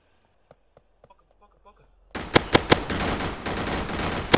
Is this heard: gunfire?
yes